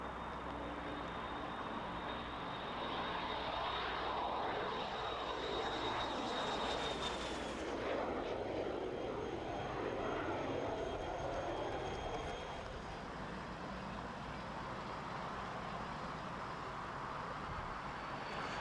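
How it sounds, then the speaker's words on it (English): A de Havilland Vampire T-55 export jet trainer roars past at an airshow with a steady, loud broadband jet rumble and a whine that drops in pitch as the aircraft passes, then fades slightly. "Dick Hadlow in the T-55 export trainer version of the de Havilland Vampire"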